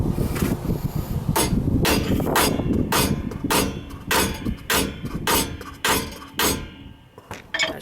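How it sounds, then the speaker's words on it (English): A hammer taps a new ball joint into the control arm of a 1997 Ford F-150, about a dozen sharp metallic strikes at an irregular pace, close and clear with no talk. "Then we're just going to lightly hammer it up a little bit, just enough so it'll stay in there for the puller."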